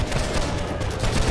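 Dense, sustained crackle of massed musket fire in the video game Holdfast: Nations At War, a ragged volley of many shots blending into one continuous roar, loud and close.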